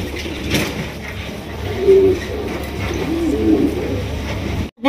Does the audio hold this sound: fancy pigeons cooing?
yes